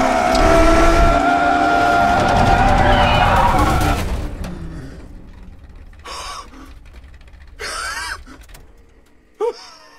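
A race car at Le Mans roars at full throttle for about four seconds, loud and close, then cuts to near silence broken by a few short whooshing bursts.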